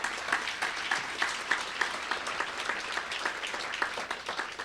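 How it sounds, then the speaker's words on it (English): A crowd applauding steadily at a graduation ceremony, dense clapping from many hands at moderate distance, holding an even level throughout. "round of applause for the staff too"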